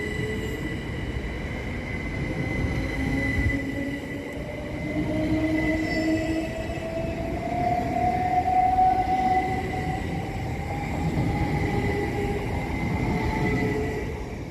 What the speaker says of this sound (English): Next train to depart is 377463 and 377473, working the 1650 Southern Railway service from London Victoria to